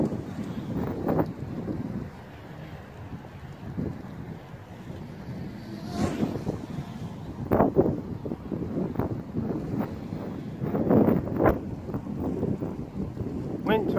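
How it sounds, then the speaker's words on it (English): Gusty outdoor wind buffets the microphone while a JJRC X1 drone fitted with 6045 three-bladed props flies nearby, a continuous rumbling rush with louder swells and brief faint knocks. "Wind trying to take it way up there."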